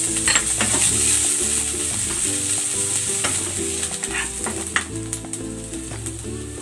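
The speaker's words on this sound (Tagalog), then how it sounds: "Using the same pan, magigisa na ako ng bawang." Garlic and onion sauté in a pan with a loud, steady sizzle that runs throughout, while utensil scrapes and stirring clatter come and go over it.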